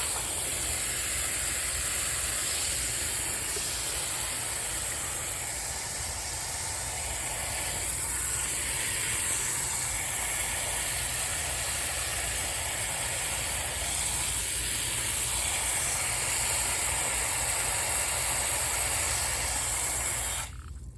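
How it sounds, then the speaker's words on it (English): A watering wand sprays water onto potted beans, a steady hiss that runs unbroken for about twenty seconds and cuts off abruptly at the end, with no talking. "let me water this one a little bit"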